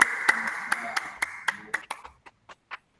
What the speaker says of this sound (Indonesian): aplaus dulu buat Pak Wildan sebagai penutup